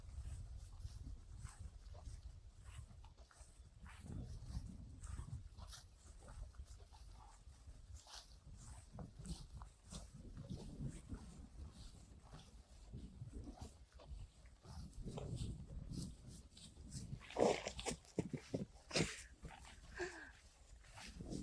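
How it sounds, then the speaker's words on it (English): Dog in an outdoor pasture makes faint, scattered snuffling and whimpering sounds amid low rustling and handling noise, quiet and mostly close, with a brief louder burst near the end. "That was a dog."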